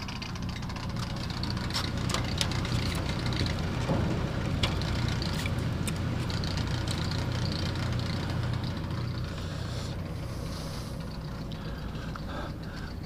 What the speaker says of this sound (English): That fan works good.